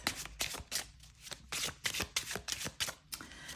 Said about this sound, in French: Et puis, on prend enfin le tarot des abysses. Et on va tirer 2 cartes.